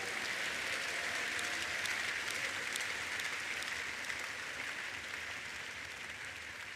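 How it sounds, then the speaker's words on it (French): A church congregation claps in sustained, dense applause that holds steady for several seconds and fades slightly toward the end, heard from within a large hall. "Give the Lord the biggest hand of praise"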